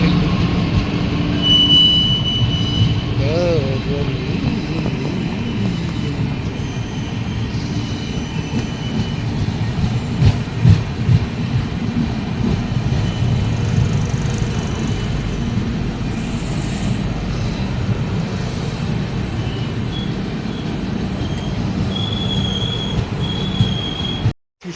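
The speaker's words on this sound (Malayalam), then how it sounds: "രപ്തിസാഗർ സൂപ്പർ ഫാസ്റ്റ് ഇതാ കയറി വരുന്നു." The Raptisagar Superfast Express rolls into a station with a loud, continuous rumble of wheels and carriages, brief wheel squeals and faint clacking, holding steady close by until a sudden cutoff at the end.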